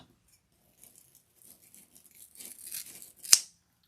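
Scissors snip through deco mesh for a Valentine's Day wreath: faint crinkly rustling of the mesh builds up, then one sharp, close metallic cut rings out near the end.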